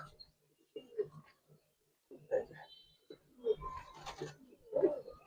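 Old-breed Giribaz pigeons coo in a loft in several low, throaty bursts spaced a second or so apart, close and fairly soft, with people talking nearby.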